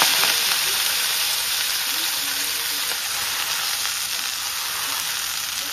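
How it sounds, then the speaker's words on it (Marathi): Fenugreek greens are tempered in a small cast iron kadhai still hot from frying puris, giving a steady, close sizzle and frying hiss that fills the clip without pause. "ज्या कढाईमध्ये पुऱ्या तळून घेतल्या त्याच कढाईमध्ये आता मी लगेच मेथीच्या भाजीला फोडणी घालतीये."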